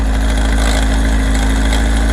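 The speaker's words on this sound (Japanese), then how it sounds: "シリンダーの真ん中あたりから音がする感じはするんですね。" A Kawasaki ZR7S motorcycle engine idles loudly up close with a steady low drone and a faint, rapid ticking rattle from a suspected cam chain fault.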